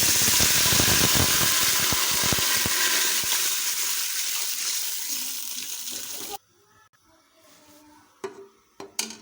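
Water pours steadily and loudly into a cooking pot of roasted cardamom for about six seconds, then cuts off, leaving a few faint clinks and quiet handling noises.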